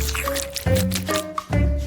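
Sticky caramel mixture squished into a ball by hand in a bowl, giving wet squelching and dripping sounds in irregular bursts, close and fairly loud, with some tonal background sounds.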